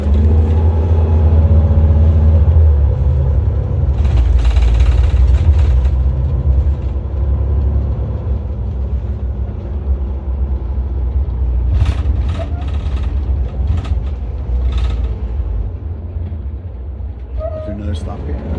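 Inside an Exo route 40 bus in Montreal, a steady loud low engine rumble and road roar fill the cabin while the bus rides, with occasional rattles and hisses and people talking over it.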